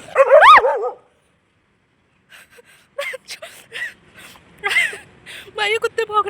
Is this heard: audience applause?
no